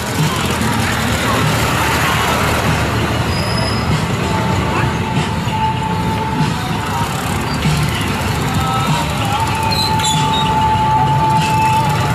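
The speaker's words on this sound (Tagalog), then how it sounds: "Traffic na naman." Dense road traffic, a loud, unbroken rumble and hiss of engines and tires lasting twelve seconds, with occasional thin squeals and faint voices beneath.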